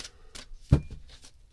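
Tarot cards riffle in short, crisp shuffles close by, a couple of light flutters around a firmer snap as the deck is bridged and tapped, with faint rustles trailing after.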